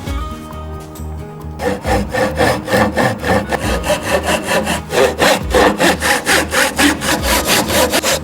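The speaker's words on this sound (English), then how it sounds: "I'm going to saw down these two lines." A hand saw cutting wood for a bridle joint, loud close rhythmic strokes rasping back and forth at an even, quickening pace with no talk.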